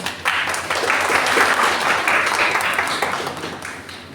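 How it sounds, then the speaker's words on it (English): An audience at an international seminar on mental health applauds a professor being honoured, a sustained round of clapping that swells quickly and fades gradually. "A big round of applause to Dr. Pratita Vishwas."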